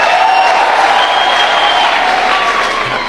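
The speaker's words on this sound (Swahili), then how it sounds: "pigeni makofi" A crowd at an outdoor political rally in Kitui, Kenya, applauds in a dense, steady wash of clapping that holds at full strength throughout, with faint voices mixed in.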